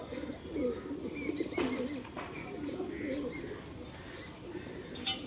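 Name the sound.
Punjabi pigeon cooing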